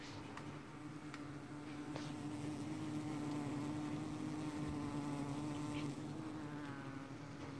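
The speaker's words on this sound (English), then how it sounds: "I've just moved these two skids of bees in, and they're uh, they're buzzing away in there." A low, steady drone of many bees in hives moved indoors hums continuously, with occasional single insects buzzing closer over the dense background hum.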